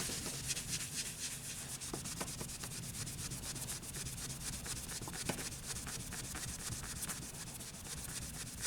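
By hand, someone rubs and polishes corrosion off the exhaust of a 1998 Honda CBR 600 F3, producing a continuous soft scrubbing hiss, close and fairly quiet, with no talking.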